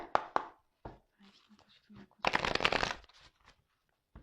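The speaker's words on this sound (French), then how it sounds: "je vais prendre quelques cartes pour voir qu'est-ce qu'il se passe" Tarot cards are shuffled and flicked in quick riffling bursts, the longest about a second long near the middle. A few soft taps and card draws fall between the bursts.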